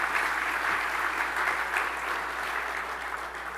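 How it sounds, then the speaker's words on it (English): Sustained audience applause at a St. Francis College charter award dinner, a dense, even wash of clapping from a large room that holds steady for several seconds. "give them a great round of applause for all of their great success"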